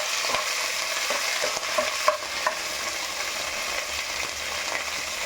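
Green chillies and curry leaves fry in a shallow layer of oil, a steady close sizzle with a few soft stirring clicks and scrapes, no voices.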